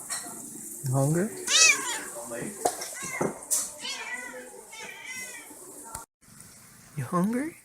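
A cat meows a few times, short rising cries with pauses between them, while a person talks softly nearby.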